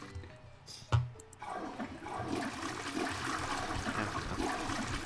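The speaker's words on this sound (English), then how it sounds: "Okay, I'm flushing." A toilet flush in the video game Who's Your Daddy starts with a sharp click, then a loud rushing swirl of water that keeps draining steadily for several seconds, close up with no talk over it.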